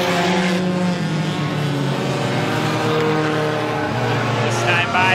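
Four-cylinder enduro race cars roar around the Star Speedway oval in a loud, steady engine drone, with a race commentator talking over the noise throughout.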